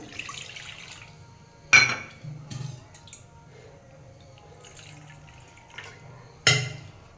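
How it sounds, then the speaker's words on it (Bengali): Water poured into a pan to start sugar syrup for sweet potato pantua, heard as a few short splashes and clinks over a low, steady kitchen hum, with no one talking. "আমি এই বাটির এক বাটি জল দিলাম"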